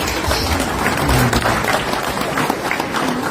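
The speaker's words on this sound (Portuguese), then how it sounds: "Mais uma salva de palmas para o jornalista." A hall audience at a national reconciliation congress claps for a journalist, producing a loud, continuous wash of applause from many people that holds steady throughout with no voices on top.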